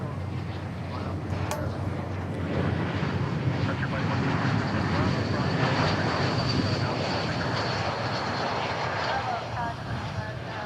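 Boeing 737 arriving at Dallas Fort Worth, a broad, sustained jet engine roar that builds slightly and holds fairly close, with faint voices talking underneath.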